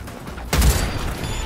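A single sharp gunshot blast from the video game Cyberpunk 2077, sudden and loud, leaving a short rumbling tail over faint background sound.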